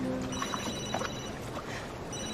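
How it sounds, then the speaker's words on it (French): A telephone rings in a French romantic comedy scene, a faint repeating electronic ring sitting low beneath a continuous bed of background noise, with no clear speech. "C'est Sean. Décroche pas"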